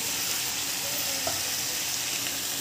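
Mint chutney ingredients sauté in a pan, giving a constant, loud sizzling hiss with faint crackles, close by and uninterrupted by any voice.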